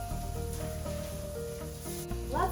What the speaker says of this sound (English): just saute the onions until golden color